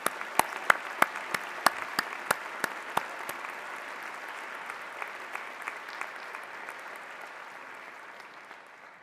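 A convocation audience applauds steadily, a broad wash of clapping with several loud, crisp claps close by early on, gradually thinning and fading toward the end.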